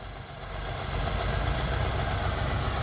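A Ford 7840 tractor rated at 115 horsepower idles close by with a steady, rumbling drone that swells slightly after the first second and then holds even.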